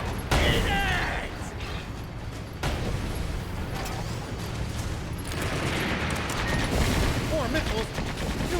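Machine gun fire from a tank battle in the video game Sand Land, rapid bursts mixed with mechanical clanking and rumbling, continuing with short gaps over several seconds amid other game effects.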